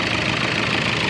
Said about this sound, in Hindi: तो अभी देख सकते हैं गाड़ी स्टार्ट हो गई है, और नॉर्मल है गाड़ी, रेसिंग नहीं कर रही है।